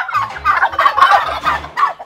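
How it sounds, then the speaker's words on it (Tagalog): Turkeys on a farm gobble loudly and close by in a rapid, rattling burst of calls lasting about two seconds. "Yan po yung mga pabo niya, oh."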